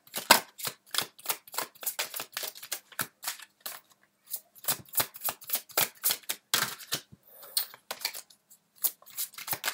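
Tarot cards shuffled and drawn by hand, a quick run of crisp papery riffles and snaps that goes on steadily, close up and without any talking.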